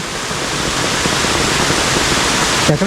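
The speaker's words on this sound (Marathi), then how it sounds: "हा बघा एक छोटासा धबधबा" A small waterfall in a Konkan forest gives a steady, dense rush of falling water, continuous and fairly loud throughout, with a brief faint voice-like sound near the very end.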